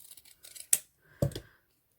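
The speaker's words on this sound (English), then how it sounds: "that's a little bit longer, so I'm just going to cut that" Scissors snip a ribbon tail for a hair bow, with a few soft handling clicks followed by two quick, sharp, close cuts in a quiet room.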